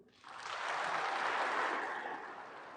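A church assembly at an Easter vigil breaks into applause for young baptism candidates, the clapping swelling quickly, holding full and dense, then easing slightly near the end.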